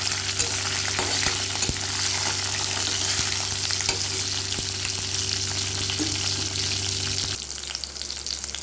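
Tempering seeds fry in hot oil in a pan for hotel-style poori curry, a loud, even sizzle with a few scattered pops and a steady low hum that cuts out near the end, no voices.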